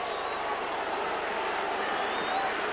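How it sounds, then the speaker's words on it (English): Rugby cup semi-final crowd at a Leigh versus St Helens match, a dense steady roar of booing and cheering from the stands, distant and continuous, with a commentator talking over it. "Boos from the Leigh crowd, cheers from the St Helens crowd."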